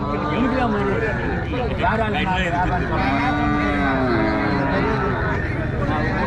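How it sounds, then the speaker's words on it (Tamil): Several cattle moo loudly and repeatedly at a busy native-breed cattle market in Tamil Nadu, long overlapping calls close by, with crowd chatter and voices running underneath throughout. "மாடு தாங்க"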